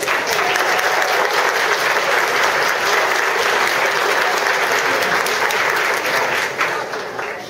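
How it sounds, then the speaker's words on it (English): An audience at a fashion show claps for the organizing committee, a dense, sustained round of applause filling the room, strong throughout and tapering slightly at the close. "can we have a round of applause for those?"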